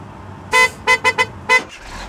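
Cars crossing a bridge in the BridgeConstructor video game, heard as five short, loud, tonal horn-like honks in an uneven rhythm, with faint quieter blips trailing after.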